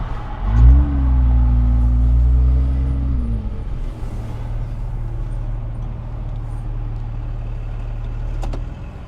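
A car engine hums loudly, with the check engine light on, then its pitch drops and it settles to a low idle rumble as the vehicle pulls over to a stop.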